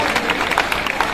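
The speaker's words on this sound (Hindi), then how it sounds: "आप सबकी इन तालियों का, इस हौसला अफजाई का" An audience claps after a live stage play, a dense patter of many hands that is steady and fairly loud, with a voice speaking over it.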